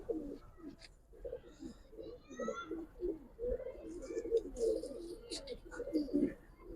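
A young pigeon coos repeatedly in soft, low throaty bursts close by, with faint chirps and background voices mixed in over several seconds.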